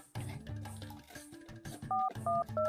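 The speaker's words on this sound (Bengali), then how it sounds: "ফোন লাগা দি, ফোন কর।" A telephone is dialed to make a call, with a short series of clear electronic keypad tones near the end following some louder, jumbled sounds.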